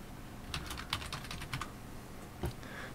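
Typing on a computer keyboard while entering text, a quick burst of close clicking keystrokes followed by a pause and one more key press, faint and alone.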